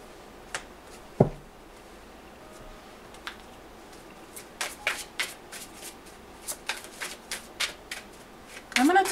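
Tarot cards shuffled by hand in a quiet room, a string of soft, quick riffling flicks and taps that grow busier toward the end, with a sharp knock near the start.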